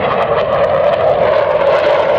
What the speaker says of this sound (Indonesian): Ini adalah pesawat jet.